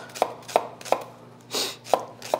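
A sharp knife chops a small onion on a cutting board, six crisp evenly spaced thuds close by with a softer slicing swish between them, no talking.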